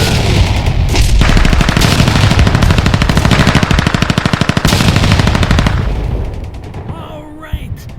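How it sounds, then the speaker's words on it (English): SS Thrusters consumer fireworks from Red Lantern go off at a street launch pad, a loud, rapid machine-gun string of crackling bursts and booms that runs for several seconds before thinning to scattered pops. "we're at the street pad with SS Thrusters by Red Lantern Fireworks"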